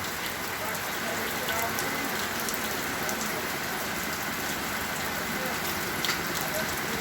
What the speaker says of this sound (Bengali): ঝুমঝুম বৃষ্টি